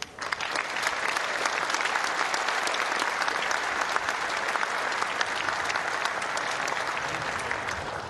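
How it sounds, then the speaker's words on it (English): Sustained audience applause at a tennis tournament trophy ceremony honoring the runner-up, a dense, steady clapping that holds at full strength throughout and barely fades toward the end. "a big round of applause for our runner-up here today, Mona Barthel"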